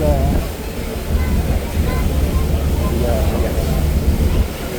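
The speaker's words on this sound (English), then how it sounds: "Last ferry ride for this trip." Steady low rumble of a passenger ferry crossing the water from Kadıköy, Istanbul, with engine drone and wash forming a continuous bed of noise, and faint voices around it.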